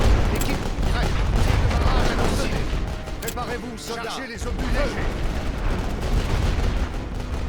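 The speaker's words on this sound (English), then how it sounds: "Here comes the machine gun." Dense, sustained gunfire and battlefield rumble from a WWI Western Front video game, with machine gun bursts amid artillery, loud and continuous apart from a brief dip partway through, with a voice talking over it.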